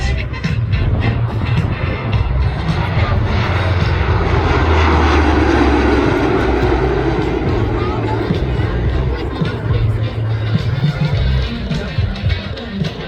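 A C-130 Hercules firefighting airplane flies past with a loud, sustained propeller-engine drone that swells and fades, with crowd babble audible beneath it.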